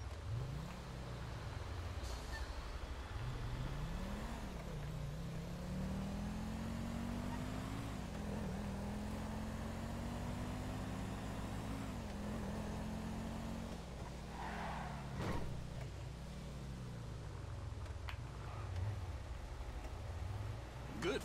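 A car driven in the video game Grand Theft Auto V, its engine revving up and down in repeated sweeps with gear shifts, steady and fairly faint under a voice talking.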